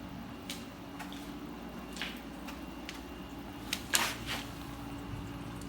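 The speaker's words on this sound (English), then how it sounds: "the pipe is currently bringing water into the system" Water trickles from a drainage pipe into a basement waterproofing system, a faint irregular dripping with occasional sharper splashes over a low steady background hum.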